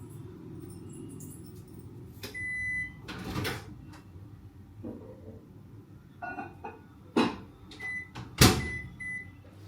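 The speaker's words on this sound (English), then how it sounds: "I'm going to heat it up in the microwave" A microwave oven heats milk, with a low steady hum running underneath while door clunks, beeps and sharp kitchen clatters break in at intervals, all nearby and without speech.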